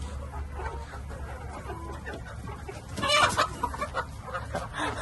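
Chickens on a free-range desi poultry farm cluck in short soft bursts, with one louder flurry midway, against steady low background hum outdoors.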